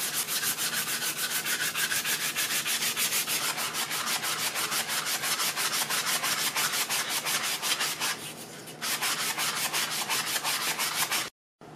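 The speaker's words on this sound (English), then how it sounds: "it's time to perfect it with hand sanding and going down or up in grits" Sandpaper rubbed by hand along a wooden spoon handle, a loud rhythmic back-and-forth scratching of quick even strokes, with a brief pause midway and an abrupt stop just before the end, no talking.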